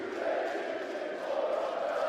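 Home crowd roaring steadily through a women's basketball quarter-final between Fenerbahce Alagoz and Perfumerias Avenida, a dense, loud, continuous arena din with no break.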